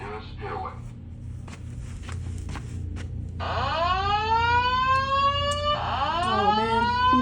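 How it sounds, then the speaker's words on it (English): A fire alarm sounds with rising, repeating electronic whoops that grow louder, ringing over background chatter and a low hum at a tattoo festival in Kentucky. "the fire alarm did in fact go off"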